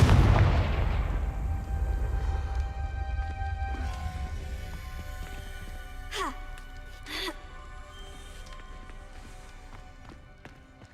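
Confringo spell explosions in the video game Hogwarts Legacy begin with a big blast, then a rumbling, crackling roar continues throughout, with sharper bursts partway through.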